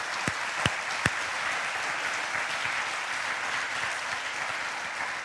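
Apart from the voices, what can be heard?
applause from a church congregation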